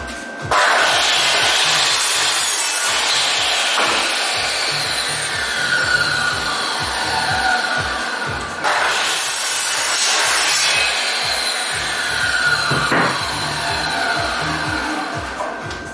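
An angle grinder with a disc cutting garden fencing offcuts to length, a loud continuous close whine and rasp in two long passes with a brief break between them.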